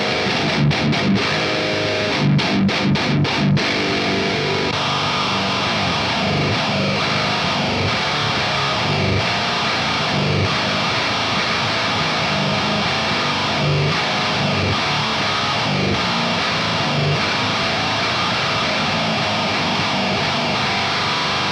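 Thick, fuzzy distorted guitar from a God City Instruments Pariah fuzz pedal on a baritone guitar in drop G tuning plays heavy chords and riffs, loud and sustained throughout, opening with a few sharp stabs.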